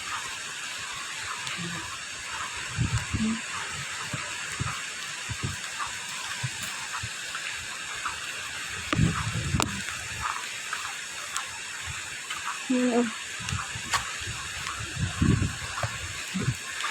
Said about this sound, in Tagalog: Pero umuulan yan. Maambon.